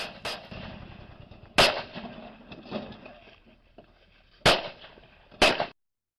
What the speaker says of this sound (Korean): 이어 총성은 한동안 이어지며